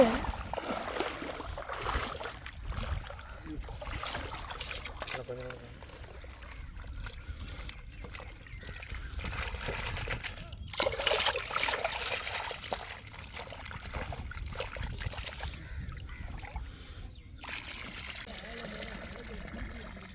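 Dried fish is rinsed and sloshed in sea water on a beach, with irregular splashing, trickling and pouring that runs continuously, plus wind noise and bursts of rustling handling close to the recorder.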